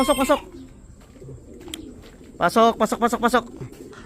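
A racing pigeon returning to its loft during a club fun race in Calauag, Quezon gives short throaty coos, one brief burst and then a rhythmic series close by, with someone talking around them.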